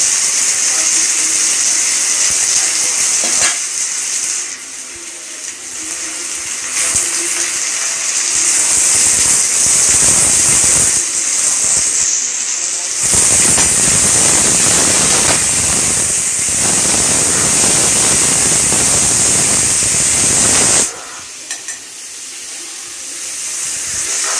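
Spice mixture with cumin and turmeric being sautéed in a pan for chickpea ghugni: a loud continuous sizzling hiss that swells and drops through the stretch, with brief stirring, and some talk at times.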